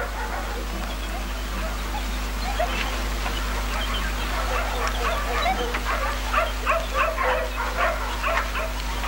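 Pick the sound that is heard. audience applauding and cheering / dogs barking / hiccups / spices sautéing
dogs barking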